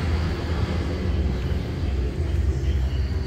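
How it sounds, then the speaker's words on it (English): A plane taxis toward the runway before taking off, a steady low engine rumble and whine holding at constant loudness throughout with no other distinct sounds. "Taking off. It's got to go to the runway first."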